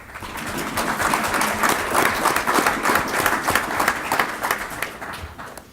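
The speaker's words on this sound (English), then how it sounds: "You can applaud" An audience claps for the school district's Athletes of the Month at a board meeting, a steady wash of many hands lasting several seconds before tapering off.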